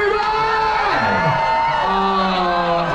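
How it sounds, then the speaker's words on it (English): A crowd cheers and whoops loudly aboard the Carnival Liberty cruise ship, with rising and falling shouts layered over a dense wash of audience noise. "give yourselves a big round of applause, everybody."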